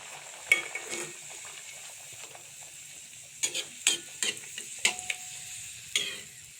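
Paratha frying in hot oil, a soft continuous sizzle broken by several sharp clicks and scrapes of a utensil against the pan.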